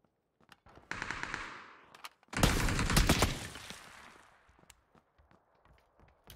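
Rapid bursts of gunfire from a rooftop, one short volley followed by a louder, sustained burst that trails off into scattered sharp pops and faint knocks, fairly close and with no talking.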